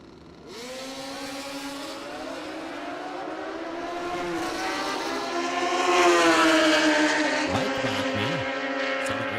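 A Growthus Drag Bikes Ultra 460 drag racing motorcycle runs at the drag strip, its engine droning steadily and climbing in pitch as it builds, loud and close, with no talk over it.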